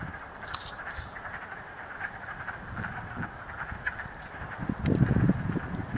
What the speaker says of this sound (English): pretty awesome to be out here and hear the wood frogs singing